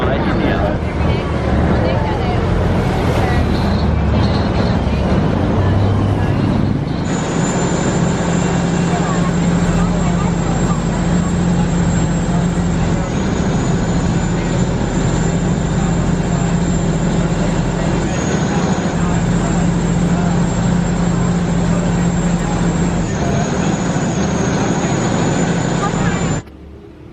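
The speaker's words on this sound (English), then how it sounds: "So we're on our final boat ride." Steady engine drone and rushing wind aboard a boat on a Bangkok river, a constant loud hum with a high whine running through most of the ride.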